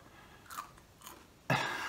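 Close, crisp crunching from chewing crispy Popeyes chicken tenders, with two soft bites followed by one louder crunchy bite, all heard alone in a quiet room.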